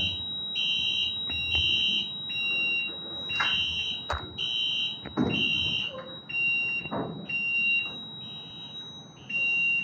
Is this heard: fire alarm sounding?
yes